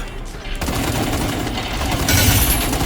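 Loud, continuous automatic gunfire from the online shooter video game Battle Teams 2: close rapid-fire shots blurring into a steady roar for the whole stretch.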